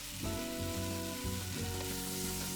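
An Okra curry base with Goan recheado masala fries in a pan over a medium flame, giving a dense, even sizzle that runs the whole time, with low stirring knocks underneath.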